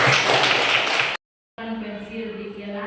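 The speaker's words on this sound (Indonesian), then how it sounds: "Tepuk tangan." Classroom clapping: a brief burst of dense applause from a group of hands, then a sudden cut to silence followed by a quieter tonal hum.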